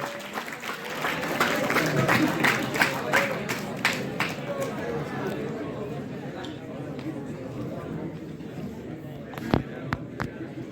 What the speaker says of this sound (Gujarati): તાળીઓથી સ્વાગત કરજો મને સમજો.